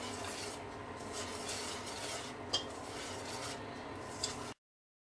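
A utensil gently folds sifted cake flour into chiffon cake batter in a bowl, making soft continuous scraping and rubbing strokes with faint clinks, close up, before stopping abruptly.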